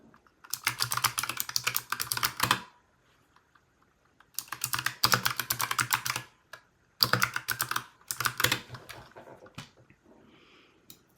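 Three quick bursts of typing on a computer keyboard entering a terminal command during a Laravel coding tutorial. The keys clatter close and crisp, separated by short pauses, with no talk.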